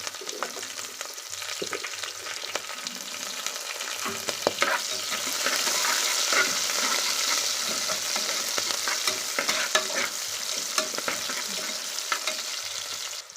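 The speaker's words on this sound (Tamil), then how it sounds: "ஃபஸ்ட் நல்லா வெங்காயம் வணங்கட்டும்" Onions, curry leaves and green chillies sizzle steadily in a pan for dal rice while a utensil stirs and scrapes, the frying noise rising slightly midway and staying constant throughout.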